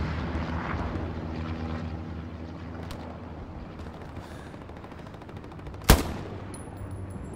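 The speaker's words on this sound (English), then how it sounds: "Because I'm hearing shots in this corner." Gunfire in Hell Let Loose, a WWII battlefield with scattered distant shots and bursts under a droning aircraft engine, capped by one sharp, loud close shot near the end.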